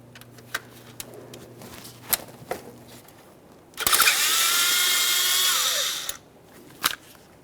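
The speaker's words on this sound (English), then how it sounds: "Now we'll dislodge this bracket, which is attached to our intake. We're using a 10mm for this." A power ratchet or drill on a 10mm socket whirs for about two seconds while loosening an intake bracket on a 2012-2018 Nissan Maxima 3.5L V6, between scattered clicks and taps of tool handling.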